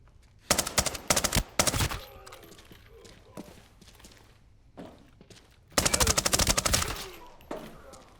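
Rapid automatic gunfire in the shooter game Arena Breakout, with two loud sustained bursts and a shorter one in between, separated by quieter stretches of faint movement and footsteps.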